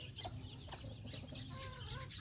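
Freshly bathed banded chickens cluck softly in a hot-weather bath with soap and water, a few short low clucks over a steady background hiss, moderately distant and without talk.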